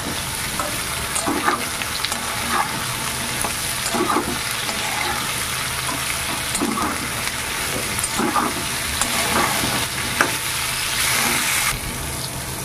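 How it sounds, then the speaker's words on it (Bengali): Pointed gourd (potol) frying in oil with salt in a pan, a dense steady sizzle with rhythmic scrapes and stirs throughout, close and fairly loud, no speech. "লবণ দিয়ে একটু নরম করে প্রথমে পটলটা ভেজে দেবো।"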